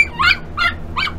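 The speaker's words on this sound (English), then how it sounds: "You gonna bark at me?" A young puppy from a litter gives three quick, high-pitched yips, heard close by.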